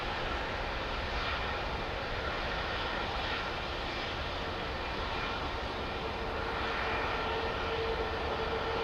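An airliner departing Heathrow Airport roars steadily at a distance, a broad sustained jet rumble and hiss with no talking over it.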